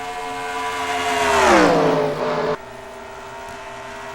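The No. 20 ARCA stock car in a Michigan oval racing game roars past up close. The engine's whine climbs, then drops in a clean Doppler sweep, and the engine drone of other cars continues after it.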